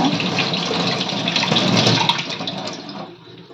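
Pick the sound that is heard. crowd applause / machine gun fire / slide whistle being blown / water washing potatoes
water washing potatoes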